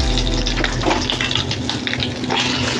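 Curry leaves and green chillies hit hot oil with asafoetida for a Maharashtrian whole masoor curry, giving a loud, dense, continuous sizzle and spatter close by.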